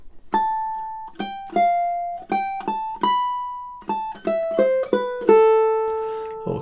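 A ukulele plucks measures 11 and 12 of Swan Lake as a slow solo melody, single clear notes ringing one after another with short decays, a final note sustaining longer.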